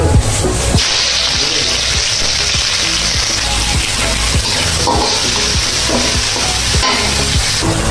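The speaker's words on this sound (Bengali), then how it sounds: "এখন আমি মুরগি বোনা করার জন্য পেঁয়াজ দিয়ে দিচ্ছি" Loud, continuous frying sizzle from a close pan, with rhythmic scraping strokes of a spatula stirring chicken and onions throughout.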